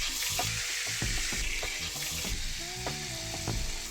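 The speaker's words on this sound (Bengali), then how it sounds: "তেল গরম হলে একটা একটা করে মাছ এর মধ্যে ছেড়ে দিচ্ছি" Pieces of katla fish sizzle in hot mustard oil in a kadai, a dense close crackle and hiss broken by scattered sharp pops and clinks of a utensil against the pan.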